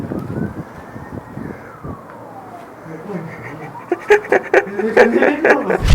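A police siren wails far off in one slow rising and falling sweep, followed by nearer clattering noises and a voice speaking.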